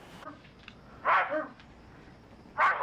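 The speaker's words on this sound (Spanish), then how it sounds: "¿Y esos ladridos que son," A dog barks twice, a short sharp bark followed by another after a pause, moderately near in a quiet indoor setting.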